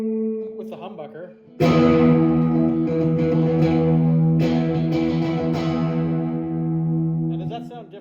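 A Tokai AST 114 electric guitar played on its humbucker pickup sounds a few plucked notes, then a strummed chord that rings thick and sustained before fading, with a brief voice near the start and end.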